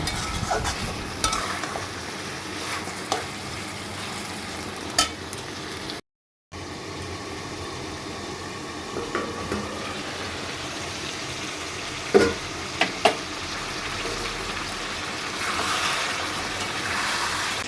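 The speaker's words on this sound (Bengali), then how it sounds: "এবার আমি মাংসটা 5 মিনিট কষিয়ে নেব।" Mutton sautéing in a hot pan, stirred continuously, gives a steady loud sizzle and frying crackle with repeated scraping knocks of the spoon against the pan.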